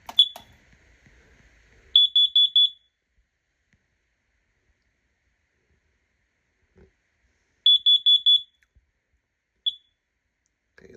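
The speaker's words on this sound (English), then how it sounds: "Test this carbon monoxide detector." A carbon monoxide detector under test sounds its alarm: two bursts of four sharp, shrill, evenly spaced beeps several seconds apart, plus a single isolated chirp, with near silence in between.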